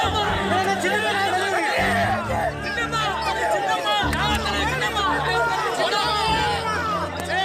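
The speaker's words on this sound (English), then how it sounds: "the crowd went into a frenzy" A dense roadside crowd of party supporters greets Sasikala near midnight in Vellore, with constant loud chatter and shouting and many overlapping voices rising and falling without a break.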